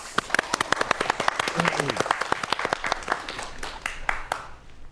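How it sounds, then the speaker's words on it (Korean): An audience applauds, a dense patter of many hands clapping steadily before gradually thinning out. "박수 부탁드립니다"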